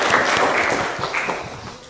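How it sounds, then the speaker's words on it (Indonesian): A class of vocational students (10 DKV 1) breaks into applause together, a dense burst of hand clapping that carries through the whole moment and slowly thins toward the end. "tepuk tangan untuk diri kalian"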